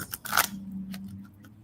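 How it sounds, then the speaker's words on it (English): A deck of cards is shuffled in a few quick, crisp riffling bursts and a softer later flick, close by against a low steady hum in a quiet room. "So I'm shuffling the cards"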